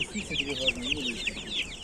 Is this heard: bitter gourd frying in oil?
no